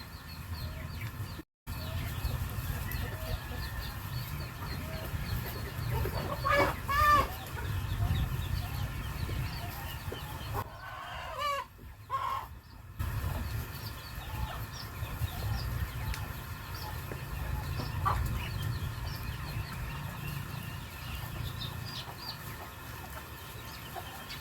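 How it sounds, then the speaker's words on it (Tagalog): Farm chickens, recovering after eating poison, cluck and call intermittently nearby over a steady low background hum, with scattered louder calls and short quiet gaps. "Ito na mga idol yung manok natin."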